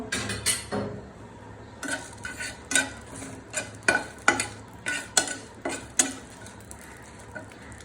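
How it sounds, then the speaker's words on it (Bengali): Four or five dried red chilies frying in oil in a wok, a soft sizzle broken by a rapid series of sharp metal spatula scrapes and clinks against the pan, close and rhythmic. "আমি শুকনো মরিচগুলোকে একটু ভেজে নিব"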